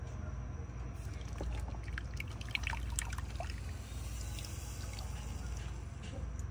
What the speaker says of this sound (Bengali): কমলার জুসটা আমি দিয়ে দেব চিনির মধ্যে